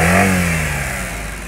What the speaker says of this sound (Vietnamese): máy rất uy lực, nó thể hiện một cái động cơ cực kỳ khỏe